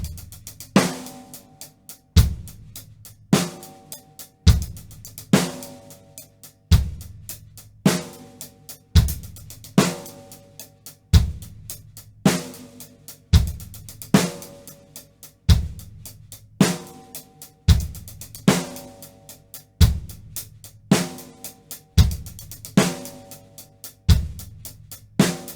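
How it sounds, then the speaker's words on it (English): A drumset groove with alternating sixteenth notes on the hi-hat, steady and even over kick and snare hits repeating in a regular pattern, played alone at a moderate tempo without talk. "So now we'll use that alternating 16th note pattern on the hi-hat to fill out the rest of this groove."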